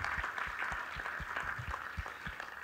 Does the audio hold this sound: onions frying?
no